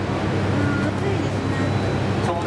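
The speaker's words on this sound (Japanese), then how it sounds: "今度は左にエンジンのスタートになります。" Left jet engine of a T-400 aircraft starting during a ground taxi training display, a loud continuous roar with a thin high whine running through it.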